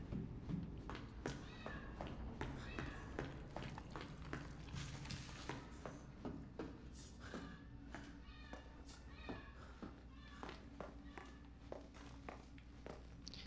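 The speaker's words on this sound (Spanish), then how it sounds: "Mi gata se desespera porque no puede salir" A pet cat meows repeatedly, anxious to be let out, over a steady background hum with light footsteps and small taps mixed in throughout.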